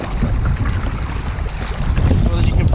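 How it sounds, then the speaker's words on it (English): Strong wind at sea off Unst in the Shetland Islands, buffeting the microphone from a fishing kayak with a loud, constant low rumble and gusty roar. "as you can probably see, it's too windy to fish"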